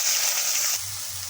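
Chopped onion hits hot spice tempering in a pan, giving a bright, steady sizzle that stays loud for most of the moment before easing into a softer, lower crackle; no one talks.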